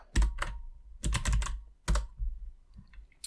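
Clacking keystrokes on a computer keyboard come in quick close clusters with short pauses between them, crisp and near, with no voices.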